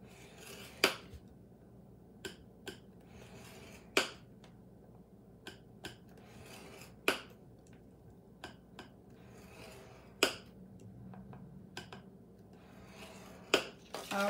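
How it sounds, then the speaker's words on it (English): Card stock is scored along lines at regular intervals, giving a series of sharp, close scraping strokes and snaps spaced about a second apart over a quiet background, with no speech. "You're going to score it at half an inch and then at a quarter of an inch, every quarter of an inch after that."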